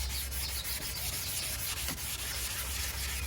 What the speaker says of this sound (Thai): อันนี้เขาเรียกว่าขัดน้ำครับ